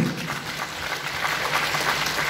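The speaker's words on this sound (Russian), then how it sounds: "Аплодисменты!" A hall audience at a personal-growth seminar applauds as Anna Davydova is introduced, a continuous mid-level wash of many hands clapping, steady throughout with no voices on top.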